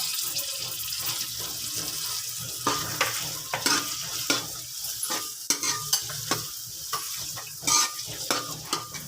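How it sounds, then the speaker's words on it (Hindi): Chopped onions fry in oil toward light brown, a soft continuous sizzle broken by frequent scraping and stirring strokes of a spoon in the pot, arriving in irregular bursts over a low steady background. "प्याज को अब हम यहाँ पर लाइट ब्राउन करेंगे।"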